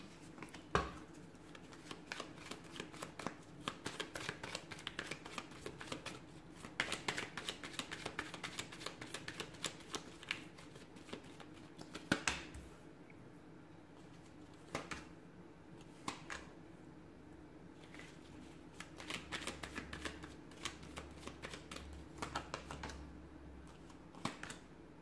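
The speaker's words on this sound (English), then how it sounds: "So we'll give the cards a shuffle here" Tarot cards being shuffled by hand, a long run of soft riffling and sharp tapping clicks in irregular bursts, close and quiet against a faint background hum.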